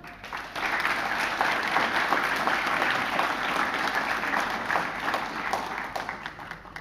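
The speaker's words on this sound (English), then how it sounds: "Thank you for keeping up the applause." Sustained applause from a large audience at an awards ceremony with the President of Ireland, dense steady clapping that swells in and holds loud and even throughout, with no voices over it.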